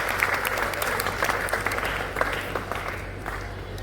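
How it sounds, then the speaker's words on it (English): Loud, continuous applause from an audience at a school debate competition, dense clapping that holds steady throughout with no talk over it. "a huge round of applause to all of the 17 participants"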